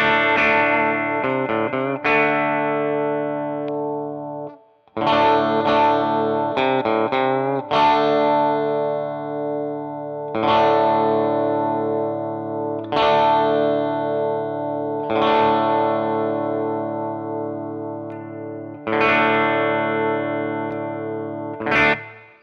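A 2018 Les Paul Standard electric guitar with its bridge pickup coil-tapped plays chords and arpeggios through chorus, distortion and reverb effects, ringing out in sustained phrases with brief pauses, alone without talk.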